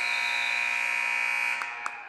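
A loud electronic buzzer ends the first half of a high school boys basketball game, EHS versus Liberty. It holds a steady tone for about a second and a half, then cuts off into gym echo and a couple of faint thumps.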